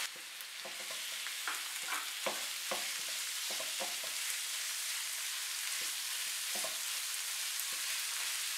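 Beef mince sizzles and fries in a pan with softened onion and garlic, a steady hiss broken by scraping stirs throughout, close and alone.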